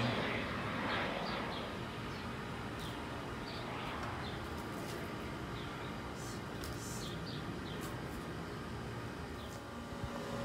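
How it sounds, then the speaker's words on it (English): A Cessna airplane passes overhead on a sunny, hot day above a home backyard, a steady broad engine roar and rushing drone that fills the scene and fades slightly at the end, with faint birds beneath. "Oh, there he goes now. That's a Cessna."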